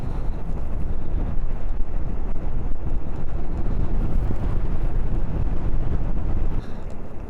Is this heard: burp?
no